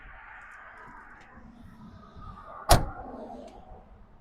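A door on a 1976 Chevrolet K-30 Silverado crew cab squarebody pickup swings shut in one solid, sharp thud midway through, with faint background noise before and a short fade after.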